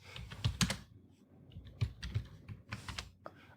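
Typing on a computer keyboard in a Linux terminal: close, clattering keystrokes in short irregular bursts separated by brief pauses, with no voice.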